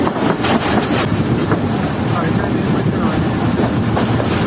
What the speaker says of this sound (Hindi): ये हमारी ट्रेन इस वक्त पहुँच रही है लंगर रेलवे स्टेशन पर।